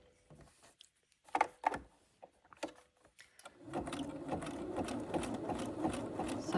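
A sewing machine runs a zig zag stitch with a steady mechanical whirr, starting with short stop-and-go bursts before settling into continuous close stitching; no voices are heard.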